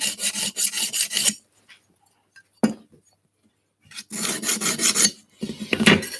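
A garden tool edge being sharpened on 320 grit abrasive, with rhythmic rasping strokes in close bursts, then a pause broken by a single clink, then more strokes, with no speech.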